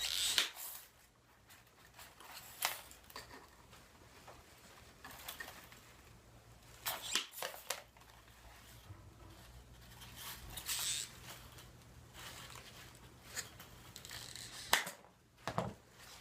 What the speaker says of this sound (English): So now I'm going to cut the other end.